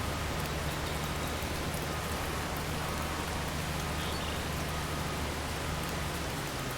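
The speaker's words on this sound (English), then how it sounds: "But as soon as the rain set in" Steady rain falls in Farming Simulator 22, a dense, even wash of drops on surfaces that stays constant and fairly loud throughout, with no voices over it.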